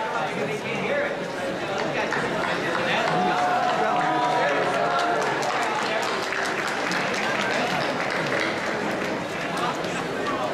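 A large graduation crowd at a high school commencement applauds, shouts and cheers continuously, with dense clapping, whistles and scattered voices filling the space at steady loudness throughout.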